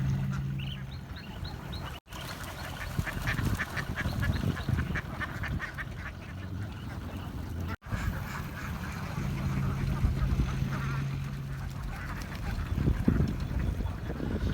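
Ducks quack and splash while playing in the water of a rice paddy, a steady outdoor chorus of quacking with broadband rustling and a low hum running throughout.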